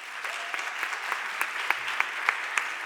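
Light, scattered clapping from a small audience at a potato-themed forum, a few distinct claps ringing out quietly in an uneven rhythm rather than a full ovation.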